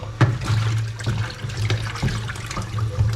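Vegetables rinsed under running water at a kitchen sink for a Filipino vegetable dish, a steady splashing stream broken by irregular louder splashes and thumps as the produce is handled, close and fairly loud.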